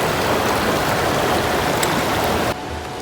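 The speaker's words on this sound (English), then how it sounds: "Stream current's getting stronger." Evolution Creek on the Pacific Crest Trail in the Sierra rushes with a strong current, a loud, continuous close-up roar of water that drops abruptly in level near the end.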